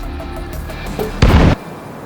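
A burning car explodes in Cyberpunk 2077, a single loud, sudden blast lasting about a third of a second over a low background rumble, then cutting back to quiet ambience.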